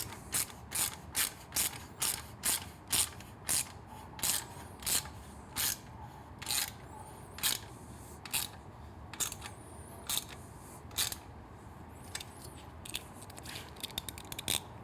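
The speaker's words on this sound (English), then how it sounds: "Then with our 5mm, while still holding the muffler out, start tightening it up." A 5mm hand tool ratchets in quick repeated bursts of clicks, tightening the exhaust muffler bolt on a Triumph Street Twin-style motorcycle during a competition header install, close and clear with quiet pauses between strokes.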